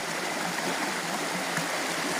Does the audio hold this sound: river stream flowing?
yes